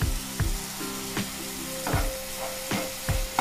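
Tomatoes cooked down with a sprig of curry leaves sauté in a pan for a Tamil village-style garlic gravy, giving a steady soft sizzle broken by several louder scraping stirs at irregular intervals, close up and without talk.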